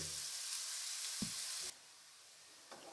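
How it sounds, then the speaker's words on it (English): Onions sauteing in a pan during preparation of Goan beef roulade give a steady broadband sizzle for over a second, then the frying drops to a much quieter hiss with a faint clink near the end. "Let it saute till it get golden brown color."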